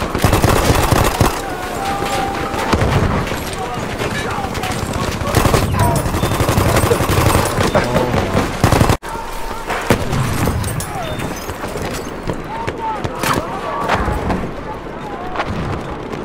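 Heavy gunfire from a big gun in the video game Battlefield 1, continuous loud booming and rattling shots with battlefield chaos, voices talking over it throughout.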